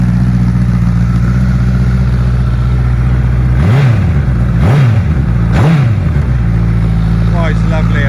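A 2009 Honda CBR1000RR Fireblade with a tailor-made exhaust idles loudly nearby, then blips the throttle in three sharp revs about a second apart before settling back to idle.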